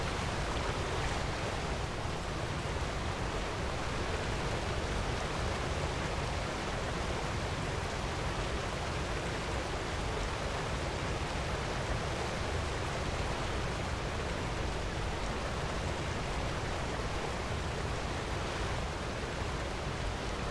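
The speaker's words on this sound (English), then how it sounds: "And if you guys hear that, we're coming up to a waterfall." A waterfall in the game World of Warcraft, outside Neltharion's Lair, roars as a steady, broad rushing wash of falling water, constant and fairly soft throughout with no voices.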